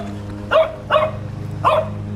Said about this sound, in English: Meanwhile, this dog right here going off.